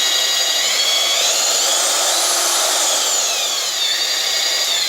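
Renz scraping machine, nearly new, mimicking the motion of hand scraping, gives a steady, loud, continuous high-pitched mechanical whir with a slight rise and fall in pitch, running alone with no talk.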